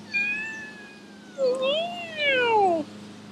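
A pet cat meows close by, three distinct drawn-out calls: a long level one, then two rising and falling cries that grow louder toward the end, with nothing else heard.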